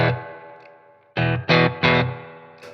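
A Fender Vintera electric guitar with its pickups switched in series and out of phase plays a sustained chord, then three strummed chords, loud, honky and hollow-toned with a distorted edge.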